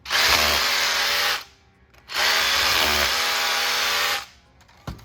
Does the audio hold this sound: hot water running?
no